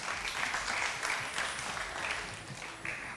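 Studio audience at a Ramadan quiz show clapping together, a dense, steady round of applause at moderate distance for about three seconds.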